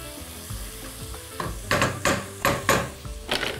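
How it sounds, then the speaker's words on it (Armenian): Ingredients frying in a pan for mushroom soup are stirred, with several scraping sizzle bursts in an uneven rhythm, close and fairly loud against a soft background hiss. "խառնում ենք"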